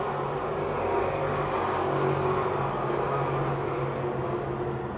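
Race cars at Pennsylvania Motor Speedway near Pittsburgh roar steadily into turn 4, a dense continuous engine drone with a faint pitch sweep, no talk heard.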